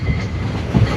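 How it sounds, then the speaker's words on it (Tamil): A passenger train rumbles past on a seaside double-track line in Sri Lanka, steady close rolling rattle with rhythmic clicks of the wheels, wind and surf underneath. "இது நான் நினைக்கிறேன் களுத்துறையிலிருந்து குருநகல் நோக்கி போகிற புகையிரதம் உண்டு"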